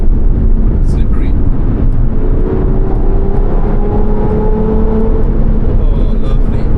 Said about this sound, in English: Aston sounds great from the 2000 to 4000 RPM range.